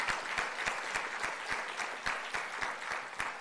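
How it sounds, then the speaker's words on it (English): Crowd at a SUNY AI Symposium applauding after Governor Kathy Hochul's call, a fairly faint but dense patter of many hands with distinct individual claps, with no voices over it. "Let's give him a huge round of applause for what he is doing for us."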